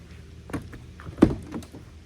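Door of a Lancia Flavia Sport Zagato being opened, a few soft clicks of the latch followed by one firm close-up thunk, otherwise quiet.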